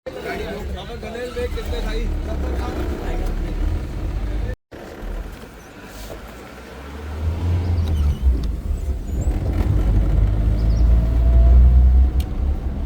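Safari jeep pulling away into the jungle of Jim Corbett's Jhirna zone, a steady motor rumble that swells louder as it moves off, with people chattering throughout.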